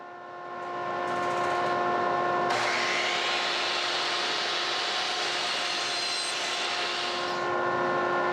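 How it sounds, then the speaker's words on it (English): A miter saw spins up and bites into a wooden board to cut a miter for a picture frame, its steady whine rising into a loud, sustained cutting roar that holds for several seconds. "I started by cutting the miters on my miter saw"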